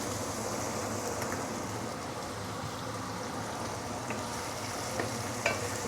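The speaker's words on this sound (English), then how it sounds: "So saute this for a while, probably about 1 minute before we continue." Aromatics sautéing in oil in a pan, a continuous soft crackling sizzle heard close and fairly quiet, with a couple of faint utensil taps near the end and no talk.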